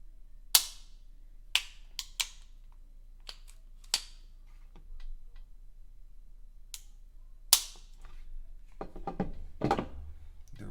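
The trigger of a Springfield Prodigy pistol clicks sharply and resets, with several crisp, isolated clicks near the mic spaced a second or two apart, followed by a busier patch of small mechanical clicks.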